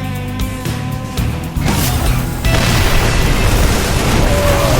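Siege tanks exploding in a StarCraft match, with loud, dense booms and bursts that thicken into a continuous roar of battle noise while a tonal game effect sounds at the start.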